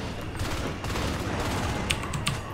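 Gunfire in the video game Natural Selection 2: a steady, dense stream of rapid shots lasting throughout, with a couple of sharper bursts near the end.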